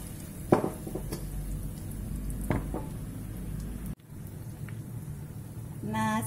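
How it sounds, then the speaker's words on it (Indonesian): Potato patties dipped in egg frying in hot oil, a soft sizzle beneath clinks of a pan and utensils, with someone speaking briefly. "Terus digoreng."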